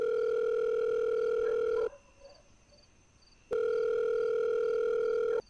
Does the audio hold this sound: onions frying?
no